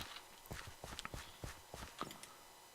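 Horse hooves clip-clop in a Minecraft-style video game, a quick run of light, crisp hoof clicks in irregular rhythm, quiet and close.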